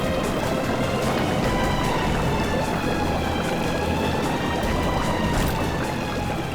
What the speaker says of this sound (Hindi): सर, पानी भर रहा सर।